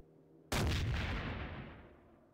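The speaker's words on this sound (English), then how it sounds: "These are GCX cannons, and this is 150mm." A single powerful 150mm cannon shot from a game bursts suddenly, then a deep rumbling tail slowly fades away over about two seconds.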